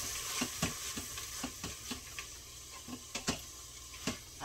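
A spoon stirs vegetables sautéing in a pot while making chicken and dumplings, giving a steady sizzle with repeated scraping knocks at an irregular rhythm, close and moderately loud.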